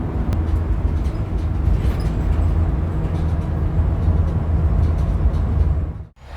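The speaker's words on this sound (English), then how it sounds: "The van's fairly heavy, but we're going to just cruise down slowly" A heavy van cruises slowly along the road, its engine and tyre rumble a steady, close, low roar that cuts off abruptly near the end.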